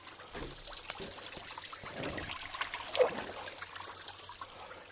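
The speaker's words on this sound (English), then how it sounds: "There's a good flood of water coming out." Water pours and trickles out of a CASE 4230 tractor during a fluid service, a steady splashing flow with gurgling bursts, close by and with no talk.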